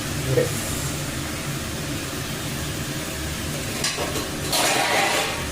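Dalia khichuri ingredients being sautéed and stirred in a pan, a steady close sizzle with scraping stir strokes that grows louder near the end; no talk.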